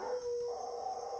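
Dogs on a ranch give a short, steady, high howl that holds one pitch for about a second, close and moderately loud, with no talk.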